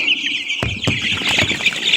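Local desi chicken chicks at a poultry market, shrill continuous peeping close by, with a couple of brief knocks and no talking.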